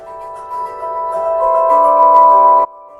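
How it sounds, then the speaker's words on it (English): Small metal sound bars of a vintage carillon with a MIDI modification, struck by tiny electromagnetic hammers, ring out as a sustained, layered chime chord that swells in loudness and then abruptly drops to a faint hum, with no voices. "what you're hearing is an actual sound bar that's being hit with a little tiny hammer"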